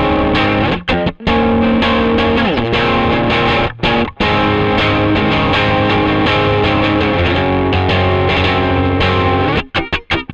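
Heavily distorted electric guitar runs through an amp simulator with only a touch of reverb, playing a loud, dense riff, broken by a few short abrupt stops and no voices.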